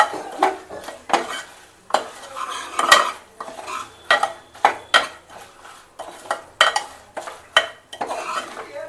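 A utensil repeatedly scrapes and clinks against a metal pan while mixing a sambar tempering, steady rhythmic stirring strokes about twice a second, close and fairly loud.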